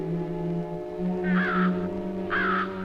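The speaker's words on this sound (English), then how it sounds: "In the trees ahead, the fish crows are beginning to get noisy." Two loud caws from fish crows in nearby trees, one in the middle and one near the end, over a low steady hum.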